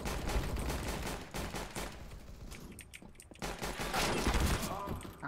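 Rapid, dense bursts of gunfire from a shooter video game's deathmatch mode, including an AP2000, with automatic shots rattling close and loud, a brief lull around the middle, then heavy firing resuming.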